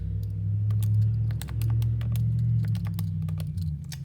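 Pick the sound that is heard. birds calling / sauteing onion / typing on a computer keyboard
typing on a computer keyboard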